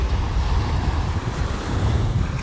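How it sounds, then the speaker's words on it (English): Ocean waves lapping on the shore at a beach in North Naples, Florida: a steady broad wash of surf mixed with wind buffeting the microphone, fairly loud and continuous, with no voices. "Leave you with the sounds of the waves here,"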